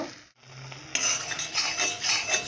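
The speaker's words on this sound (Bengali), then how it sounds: "ডালটা এইভাবে ঘেঁটে নেব।" A spoon scrapes and stirs through soft boiled lentils in a metal pot, a close, continuous rough mashing sound with a brief pause near the start.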